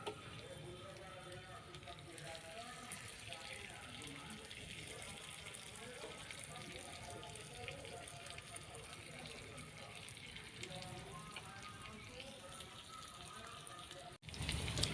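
Water poured into a pan of fish curry on the stove, a steady faint gush and fill over continuous sizzling, with no voice heard.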